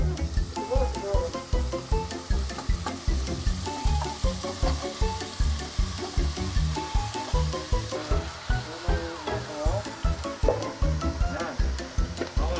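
Vegetables hit a hot pan and sizzle loudly, with rhythmic stirring scrapes pulsing steadily throughout while people talk in the background.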